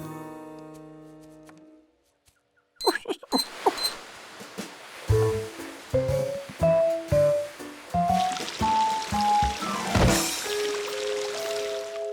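Cartoon water splashing and squishing in a Curious George scene, after a brief quiet lead-in. Wet sloshing bursts come in an uneven rhythm, close and fairly loud, mixed with bright playful musical notes.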